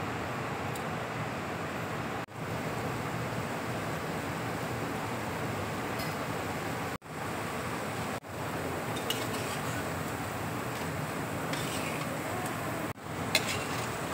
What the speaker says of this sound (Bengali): এবার এক এক করে আমি তেলের মধ্যে ছেড়ে দিচ্ছি।